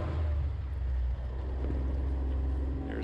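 A Kawasaki Mule Pro FXR off-road vehicle driving in the desert, its engine a steady low drone with rumble and wind noise throughout.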